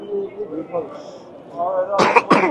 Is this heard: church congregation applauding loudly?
no